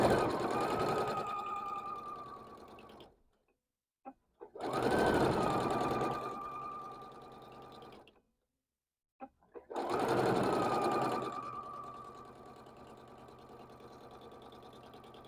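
Sewing machine stitching black and colored quilt block fabric in short bursts, three runs of steady whirring stitching separated by brief pauses, close and alone.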